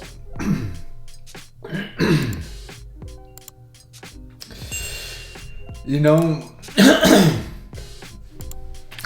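A few harsh coughs and throat clearings break out between bursts of talking, close and fairly loud, with a voice speaking in between.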